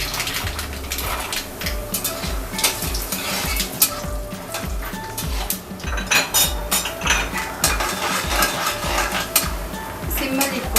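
Peanuts and popped mustard seeds fry in a hot pan over high heat while a utensil stirs them in steady scraping strokes, with continuous sizzling and clinking close by.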